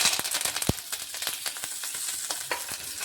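Curry leaves dropped into hot oil in a pan with the gas just switched off: a steady, close crackling sizzle with scattered pops and a stirring clatter, without any talk.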